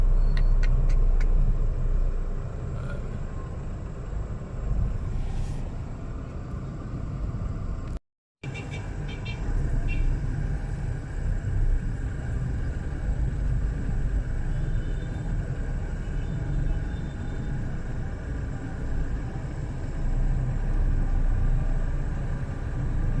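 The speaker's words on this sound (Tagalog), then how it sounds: "Ito yung ilalim ng station ng LRT." Road traffic beneath the LRT station in Baclaran, Manila, a constant low rumble of cars and buses with engine drone, occasional air-brake hisses and brief higher tones, close and loud throughout, broken by one short dropout.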